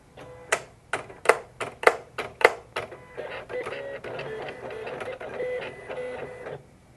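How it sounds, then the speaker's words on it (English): A craft cutting machine runs a test cut on paper, starting with a series of sharp rhythmic clacks and then settling into a busy whirring and ticking as the carriage moves, close up with no voices. "we'll just let the machine do its natural test cut"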